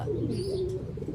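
A pet hen gives a short, soft, low coo-like call, close and alone for about a second.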